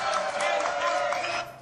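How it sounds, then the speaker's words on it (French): Studio audience applauds and cheers a guest's entrance on a French television-style variety show, a dense, steady wash of clapping and crowd noise that holds for over a second before easing off at the end. "Applaudissements pour Béatrice Panier."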